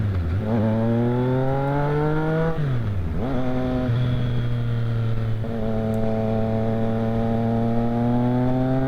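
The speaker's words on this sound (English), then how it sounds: "that Triumph Rocket, it's got a nice sound too" A Triumph Rocket motorcycle engine drones steadily nearby, its pitch rising smoothly through a few gear pulls with brief dips between shifts, loud and continuous with no talk.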